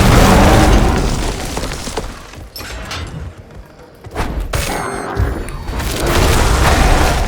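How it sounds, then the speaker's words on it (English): Artillery shrine explosions in the action RPG Diablo 4, heavy booming blasts in loud dense bursts at the start and again toward the end, with a quieter stretch in the middle. "An artillery shrine, okay."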